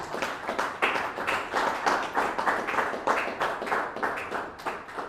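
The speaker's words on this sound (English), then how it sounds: "Let's keep clapping for him" Audience applause at a journalism workshop run by a football association, steady dense clapping from many hands throughout, fairly close and sustained without a break.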